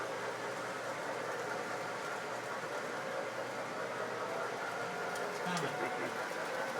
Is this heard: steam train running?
yes